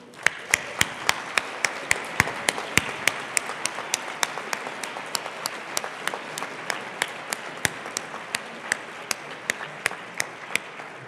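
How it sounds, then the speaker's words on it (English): Audience applause at a university programming competition final, a steady wash of clapping from a large crowd with sharp individual claps standing out in a regular rhythm throughout. "if we could have a huge round of applause for the 9th through 16 teams"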